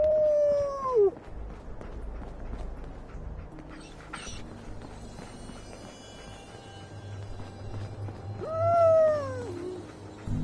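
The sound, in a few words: dog howling in a video game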